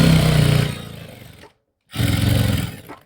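A sewing machine stitches the lining into the knee area of a salwar, running in one sustained burst, pausing briefly, then whirring again in a second close, steady run.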